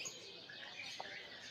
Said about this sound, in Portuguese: O canário aqui tá tudo cantando.